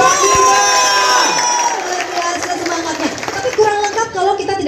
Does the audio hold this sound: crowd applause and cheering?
yes